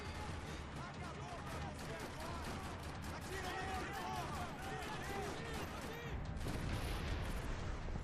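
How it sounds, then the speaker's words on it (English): Dense, continuous gunfire rattles across a parking lot in the Max Payne 3 video game, loud overlapping bursts and booms with no break, and a voice is heard faintly under the din. "Another parking lot rattling with gunfire."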